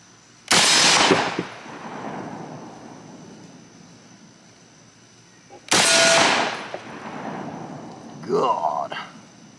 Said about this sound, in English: Let's shoot those AR-500 plates down there that we were shooting at the other day.